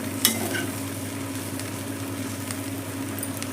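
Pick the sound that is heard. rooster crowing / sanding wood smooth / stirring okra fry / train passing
stirring okra fry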